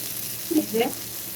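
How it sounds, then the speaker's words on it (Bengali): Chicken tikka pieces fry in a pan with a steady, close sizzle and a faint stirring scrape, lasting only a moment. "হয়ে গেছে আমার চিকেন টিক্কাগুলি ভাজা"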